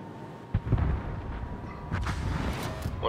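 Naval guns fire and shells explode during a World of Warships battle, a run of heavy booms and blasts rumbling one after another at close range with no talking.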